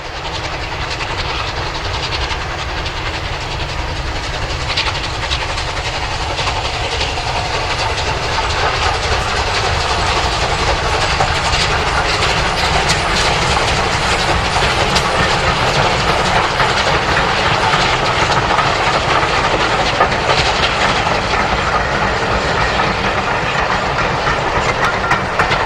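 British steam locomotives Manston and Teignmouth run on the Swanage Railway at Harman's Cross, a loud continuous roar of steam and exhaust with rail clatter that holds steady and close for the whole stretch, no voices.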